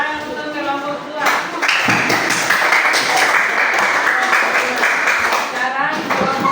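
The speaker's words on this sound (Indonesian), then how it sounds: "Tepuk tangan untuk kelompok 2." A classroom group claps for student presenters in a religious education lesson. The clapping swells after a spoken voice, holds steady for several seconds, and more voices come in near the end.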